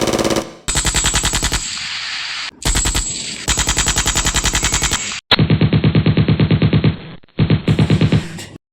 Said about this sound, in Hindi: तेरे पास तो गन है ना, तो चला गोली।